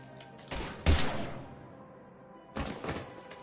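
Gunfire in Mass Effect 3 comes as a few sharp, loud bursts: one near 0.5 s, a heavier blast near 0.9 s, then another cluster after a lull of about 1.5 s.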